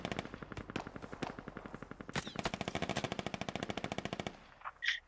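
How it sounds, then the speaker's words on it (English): Sustained machine gunfire in the military shooter game Squad, a long rapid rhythmic burst of shots at steady pace, loud and close, ending with a brief pause and a couple of final sounds. "They're being shot at this entire way."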